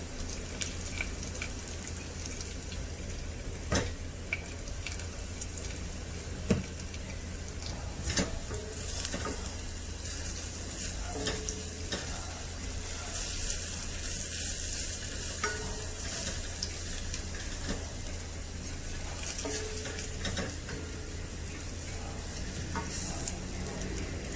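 Asafoetida dropped into a hot pan for tomato rasam sizzles in a continuous soft hiss, with scattered clicks and light scraping taps through it.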